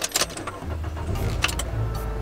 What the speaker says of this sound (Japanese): エンジンかかります